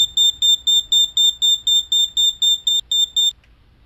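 Smoke alarm in a video game beeping in a loud, steady run of about fourteen sharp high-pitched chirps, evenly spaced, then stopping abruptly, heard alone with no talk.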